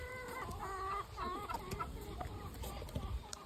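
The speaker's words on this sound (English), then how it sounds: "there is an infected chicken in the coop" Chickens cluck and squawk inside a farm coop, several birds calling close by in short overlapping bursts with soft rustling and scratching beneath, moderately quiet overall.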